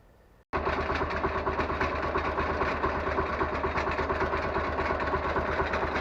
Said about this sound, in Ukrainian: Ну от я завів вже тракторець все працює.